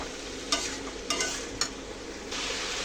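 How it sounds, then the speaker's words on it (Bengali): Potatoes and onion flowers (onion stalks) frying in a pan, with a steady sizzle and a few sharp scraping strokes of a spatula stirring them, no talking. "এটা আমি ভালো করে নাড়াচাড়া করে ভাজি করবো।"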